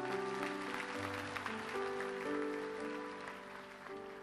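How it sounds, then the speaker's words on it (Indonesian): Applause from a church congregation during a sermon, steady and moderately loud for about four seconds, with sustained musical tones from an instrument ringing underneath. "Kasih tepuk tangan untuk Tuhan dong kalau udah dengar begitu"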